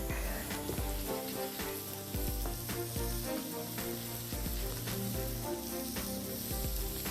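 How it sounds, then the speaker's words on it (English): Andouille sausage and peppers sizzle in a pan as they are stirred together, a constant soft crackling hiss with occasional scraping ticks from the utensil, fairly quiet and with no voices. "Stir our andouille and our peppers together and let that finish cooking"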